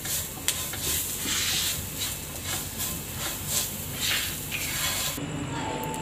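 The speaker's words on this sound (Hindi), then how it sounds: "अब हम इसमें हसब ज़रूरत काली मिर्चें डाल के थोड़ा सा इसे मिक्स कर लेंगे" Fried vegetables with black pepper stirred in a pan for a bun sandwich filling, giving a continuous loud sizzle broken by repeated scraping strokes of the spatula.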